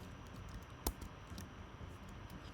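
Someone types on a computer keyboard while coding a React JS example: faint, quiet keystroke clicks with one sharper, louder key press early on.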